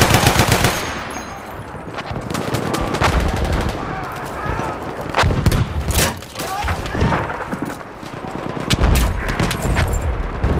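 A Lewis Gun machine gun firing in Battlefield 1, loud rapid bursts with booms and thuds from a battle around it, repeated across the whole stretch, with game voices heard under it.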